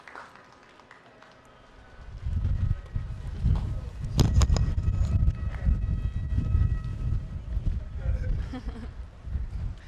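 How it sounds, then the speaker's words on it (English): Gusts of wind buffet the microphone in low rumbling bursts, with faint background noise and scattered clatter at an outdoor graduation ceremony. "It's a little windy out here."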